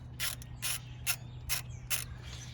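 A ratchet backing out a pulley bolt on a 1999 Chevy Silverado 1500 4.8, five crisp clicking bursts at an even pace, close up over a low steady hum.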